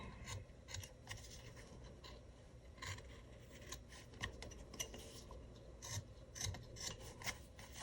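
Hand tool rasps and scrapes across wood to smooth away bandsaw marks while carving a small gnome figure, a quick irregular series of close scratchy strokes with no talk.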